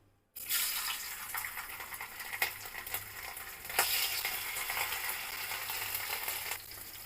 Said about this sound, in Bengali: এবার আমি ভালো করে ভেজে নিব